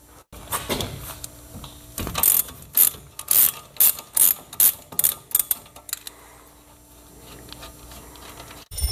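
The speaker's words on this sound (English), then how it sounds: "this is a 17 millimeter, not an inch, 17 millimeter wrench and a 13 millimeter bolt. Get both of these off here." Ratchet wrench, 17 mm, working the 13 mm brake caliper bolts on a Mercedes, a run of about eight sharp rhythmic clicks with a few clunks before and after, close and alone.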